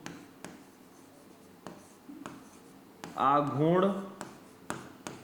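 Chalk or marker scratching across a classroom board during a Hindi physics lesson on the electric dipole, with short taps and strokes and a teacher's voice speaking partway through.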